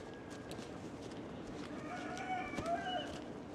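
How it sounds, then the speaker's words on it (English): Free-roaming chickens in Centennial Park, Ybor City, Tampa, with a rooster crowing faintly in the distance midway through over a soft outdoor background. "good spot to find the chickens here in Ybor City"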